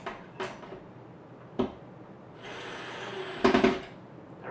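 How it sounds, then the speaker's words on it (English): A screw is tightened into an IKEA KOPPANG three-drawer chest, with a few sharp knocks and taps followed by a longer power-driver whir near the end. The sounds are close and intermittent. "what I'm going to do is start this screw. Then we can pop this over it like that and finish tightening it real quick."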